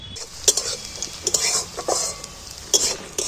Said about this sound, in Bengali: দেখো পেঁয়াজটা কিন্তু ভাজা ভাজা হয়ে এসছে